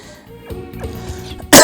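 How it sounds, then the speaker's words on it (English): A single sharp cough bursts out loudly and close at the end, after a moment of quiet background sound. "Sorry for coughing."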